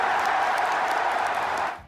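A stadium crowd applauds loudly as players are eliminated, a dense wash of clapping that holds steady before fading out abruptly at the end.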